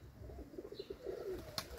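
Pigeons coo softly in a short series of low, rounded notes, faint and somewhat distant, with a brief sharp click near the end.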